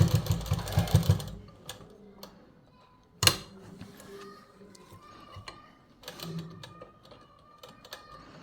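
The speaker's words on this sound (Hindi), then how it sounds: "अब ये जेब के ऊपर से हम सिलाई लगाते हैं" A sewing machine briefly whirs while stitching over a kurta pocket, a short close burst that stops, followed by a sharp click and scattered quiet handling clicks.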